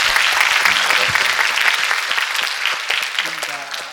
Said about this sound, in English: Can you have a clap for them?